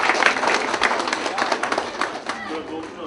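A crowd at the opening ceremony of Keyif Aile Lokantası, a family restaurant, breaks into dense, sustained applause. Loud overlapping claps mix with crowd murmur and chatter throughout.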